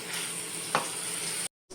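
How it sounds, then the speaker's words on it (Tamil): Drumstick kara kulambu, a tangy Tamil curry, bubbling and sizzling in a pan after water has been added; a steady close hiss with one brief clink partway through, then a short drop to silence near the end. "இது தண்ணி ஊற்றி நல்லா இன்னும் கொதிக்க விடணும்"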